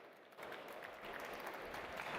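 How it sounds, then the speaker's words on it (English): Audience applause fills a room at a cycling industry diversity talk at Eurobike 2024, a steady wash of clapping that swells after a quieter first moment and holds evenly throughout. "Please give them both a round of applause."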